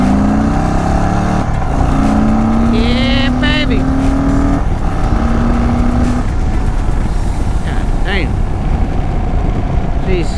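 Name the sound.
2023 Indian Sport Chief motorcycle accelerating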